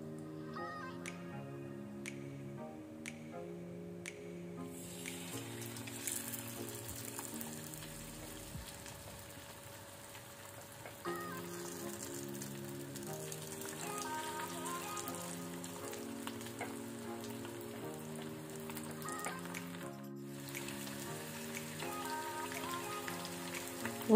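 Tiger prawns for koliwada dropped one by one into hot oil to deep fry, giving a steady, soft sizzle that runs throughout beneath louder background music.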